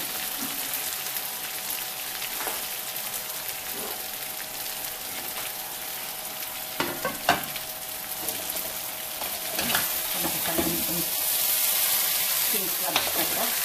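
King crab stir-frying with oyster sauce in a pan, steady loud sizzling with occasional stirring clatters, a voice speaking faintly underneath.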